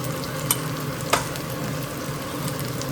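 Masala paste with turmeric and homemade spice mix sizzling steadily in a pan over a low flame, with a soft, continuous frying hiss and a couple of brief sharp stirring clicks.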